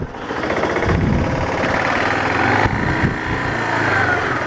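A Kawasaki KLF300 ATV engine runs loud and close with a steady rapid chugging and rattling throb, briefly rising and dipping in pitch, no voices over it.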